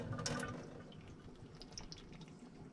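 Water sprays and hisses from a leaking hot-water line in an abandoned luxury Barth motor home, a steady close rush with faint dripping.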